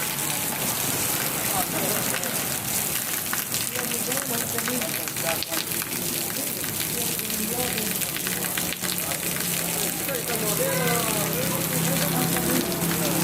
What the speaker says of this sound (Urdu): آتے بڑی زور دی بارش ہے